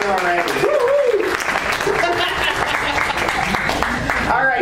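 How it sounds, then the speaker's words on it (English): Audience applause at a rocketry convention auction, a burst of clapping mixed with voices and cheers, loud and close, fading out toward the end. "Give her a round of applause for all the beautiful work she's doing already."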